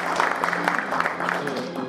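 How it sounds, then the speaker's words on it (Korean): An audience claps to welcome a speaker at a Korea University alumni journalists' anniversary and award ceremony, dense irregular applause filling the hall, moderately loud and steady throughout. "박수로 환영해 주십시오."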